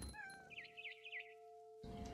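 A cat in the video game What Remains of Edith Finch gives a run of short, wavering meows, clear and alone over a quiet steady game tone.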